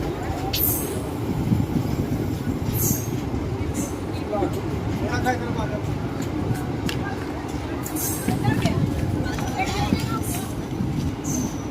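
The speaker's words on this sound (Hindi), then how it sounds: "5 मिनट डिले के साथ 15:35 में हमारा डिपार्चर हो चुका है जयपुर रेलवे स्टेशन से" The Ranikhet Express passenger train (15013) runs on rails after leaving Jaipur, making a steady, dense rumble with rhythmic clatter throughout and faint higher rattles above it.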